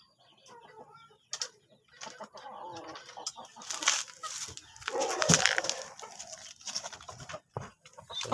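Backyard chickens cluck and call in an irregular, lively stream, with sharper bursts of louder squawking and a possible flurry of wing flaps midway, all fairly close.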